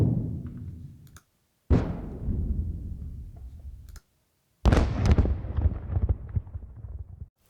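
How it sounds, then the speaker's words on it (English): Three separate explosions, each a loud sudden blast followed by a decaying rumble and crackling debris, separated by brief silences. "This is a collection of explosion sounds of various types and sizes."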